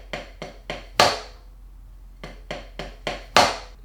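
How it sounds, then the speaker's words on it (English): Five-hit pop drum rudiment played slowly on a drum, two crisp groups of four quick strokes, each ending on a louder accented final hit, close and dry with no talk. "Level 2 is exactly the same, except the last note has an accent, hence the name, 5-hit pop."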